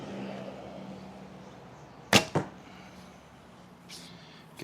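An arrow shot from an Alibow Horchin Mongolian horse bow gives a sharp, close snap and a fast follow-up crack against quiet outdoor background, with a faint knock of impact moments later.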